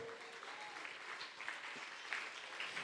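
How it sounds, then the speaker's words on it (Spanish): A church congregation claps during a Spanish-language worship service, a steady, fairly faint patter of many hands rising in a few small surges. "Dele ese aplauso al Señor."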